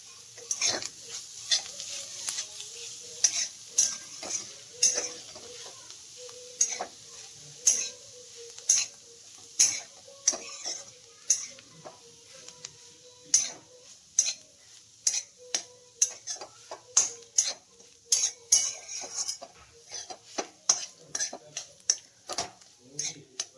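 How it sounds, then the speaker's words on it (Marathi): A spoon stirs paneer filling with chopped coriander in a pan, giving a steady rhythm of close, sharp clinks and scrapes against the metal over a soft background. "आता हे व्यवस्थित मिक्स करून घ्यायचं आहे"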